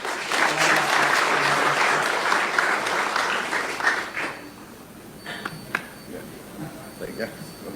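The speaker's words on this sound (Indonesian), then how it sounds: "Tepuk tangan loh." Loud, dense applause from a crowd during President Prabowo's visit to a Sekolah Rakyat school in Tabanan, Bali, sustained for about four seconds before fading into quieter room ambience with scattered sounds.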